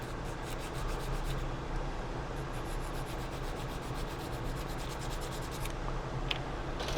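A sanding stick rubs quickly back and forth across a plastic part from a Revell 1/25 Bronco model kit, making a steady rhythmic scratching of short strokes, close and alone.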